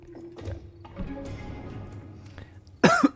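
A person coughing into a microphone while streaming a game, a short harsh cough burst near the end after low background sound, close and fairly loud.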